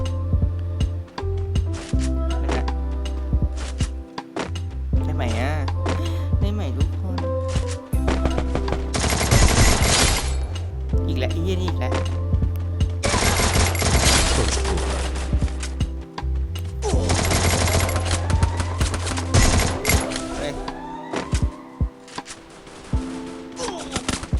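Free Fire firefight with long stretches of rapid automatic gunfire, bursts rising and falling over about twenty seconds, loud and close, with occasional voices mixed in.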